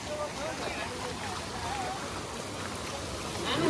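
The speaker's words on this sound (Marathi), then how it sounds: "खालचो धबधबो आता एकदम जोरात वाहत असतो हेच बघा किती या पाणी" A strong stream waterfall below a dam rushes steadily in a dense, even roar, close and constant, with faint voices under the water noise.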